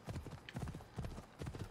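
Horse hooves clip-clop in a steady, rhythmic trot in the video game Assassin's Creed Odyssey, the hoofbeats close and fairly even with no voices over them.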